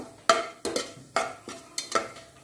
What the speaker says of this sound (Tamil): ஒரு 4-5 முந்திரி பருப்பை 2ஆக உடச்சி இது கூடயே போட்டு ஃப்ரை பண்ணிக்கலாம்